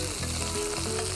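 Red onions and garlic frying in a pan, a loud, steady sizzle that fills the whole moment up close, with no voices over it.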